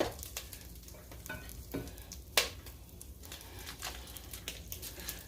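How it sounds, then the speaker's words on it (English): Onions cook in butter in a pot, giving a steady, moderate sizzle with scattered crackles and one sharper pop, and no talk over it. "Then we're going in with these onions and 4 tablespoons of butter."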